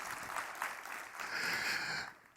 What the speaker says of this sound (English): give me a loud round of applause right now